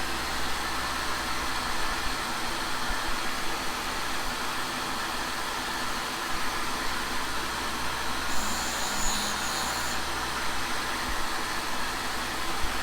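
A shop vacuum fitted with a household filter runs steadily in a machine shop while carbide cutting bars are made, a constant broadband whoosh and hum with no talk.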